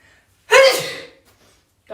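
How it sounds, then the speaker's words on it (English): A single sharp sneeze bursts out loudly and close, then fades into quiet, with a faint breath or voice starting just after. "gonna sneeze."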